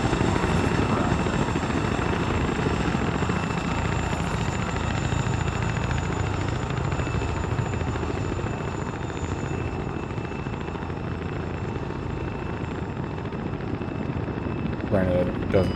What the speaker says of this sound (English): nobody else in the world has fucking helicopters that sound like ours